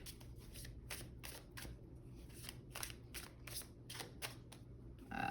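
Tarot cards shuffled by hand during a pick-a-card love reading, a steady run of crisp riffling bursts repeating at an even pace, close and clear with no one talking.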